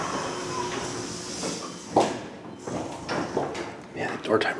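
A Delaware hydraulic elevator door in a hotel slides shut with a quick thump and rumbling clatter at mid-clip, followed by softer knocks and shuffling under steady background noise and faint voices.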